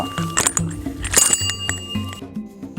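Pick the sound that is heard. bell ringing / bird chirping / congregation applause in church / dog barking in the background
bell ringing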